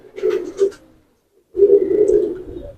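Tonk pigeons coo in two soft, low, throaty bursts separated by a short pause, close by and fairly loud, with no talk over them.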